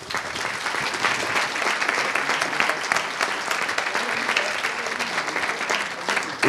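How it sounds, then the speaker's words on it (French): Sustained applause from an audience at a school event, steady and dense clapping filling the whole stretch without pause, close and fairly loud. "Je crois que vous pouvez l'applaudir."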